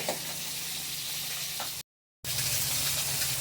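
Pabda fish frying in hot oil in a home kitchen, a steady loud sizzle with a few sharper spatters, briefly cut to silence midway before the hiss resumes.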